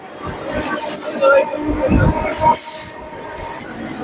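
A local train pulls out of a station nearby, with loud rumbling carriages, clattering wheels and high metallic squeals, while voices talk on the platform.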